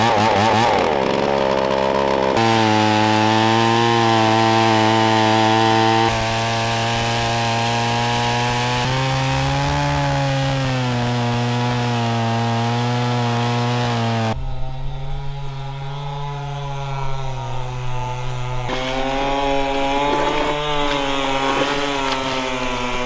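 A chainsaw cuts through lake ice, running loud and steady at high revs for over twenty seconds, its pitch dipping and rising as the bar bites into the ice.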